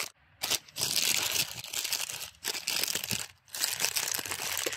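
Plastic packaging crinkles and rustles loudly close by as a parcel sack is opened, with sustained crumpling bursts separated by brief pauses.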